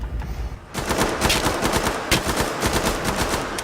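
Sustained assault rifle fire from Killing Floor 2: rapid, loud automatic bursts in a steady rattling rhythm, close and continuous with no talking.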